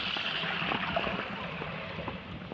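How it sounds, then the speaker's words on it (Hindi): Water flows steadily through an irrigation canal into rice paddies, a continuous broadband gurgling rush heard close by with no voices over it. "ये खेतों में पानी जा रहा है"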